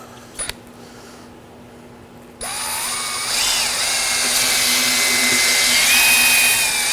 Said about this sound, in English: I'll be cleaning this with a wire brush on a drill.